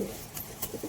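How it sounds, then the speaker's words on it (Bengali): Madras and Giribaz pigeons at a seller's in Kolkata give a brief, close coo over a low hum of traffic. "সম্পূর্ণ সুস্থ পায়রা,"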